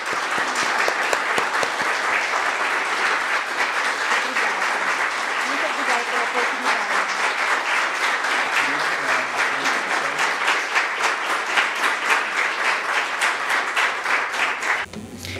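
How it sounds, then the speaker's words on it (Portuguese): An audience applauds steadily after a speech at a religious gathering, dense continuous clapping from many hands sustained at even loudness for about fifteen seconds before stopping abruptly. "Salva de palmas para a nossa..."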